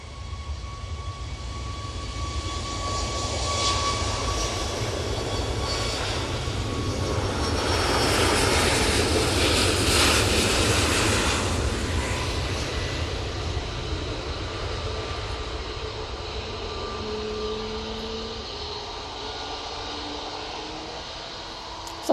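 A Ryanair jet on its takeoff roll at Manchester, bound for Alicante, builds a loud, rising engine roar that peaks midway and then eases into a distant whine as it climbs away.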